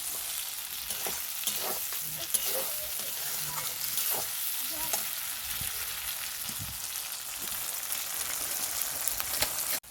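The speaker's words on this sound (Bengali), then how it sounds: "সব আমি ভালো করে কষিয়ে নেব।" Spice masala with chilli powder stir-fried in oil for a rohu fish curry, a steady moderate sizzle punctuated by repeated spatula scrapes and stirring taps, no voices.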